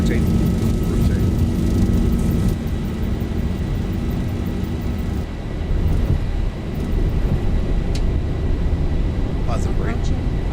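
A Boeing 737-800 jet roars down the runway and lifts off in X-Plane 12 at Miami, a loud steady engine rumble with a voice calling out over it, easing slightly partway through.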